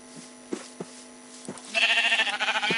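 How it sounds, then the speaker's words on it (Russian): Sheep bleat in a Minecraft game several times, with short calls near the start and then a louder, sustained wavering bleat that fills the last second. No one talks. "О, какие вы хорошие овцы."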